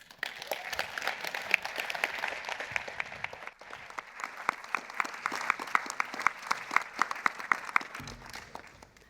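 Sustained audience applause at an awards ceremony for the FIFF 2025 festival, a dense, steady wash of many hands clapping that dips briefly midway and then carries on at full strength to the end.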